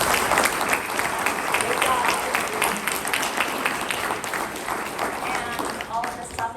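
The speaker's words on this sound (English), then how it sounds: "let's give a round of applause to these wonderful ladies" An audience claps steadily for several seconds in a hall, a full, even round of applause while a voice briefly speaks over it.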